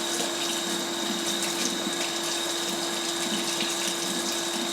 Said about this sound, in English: I'm going to give this a good rinse.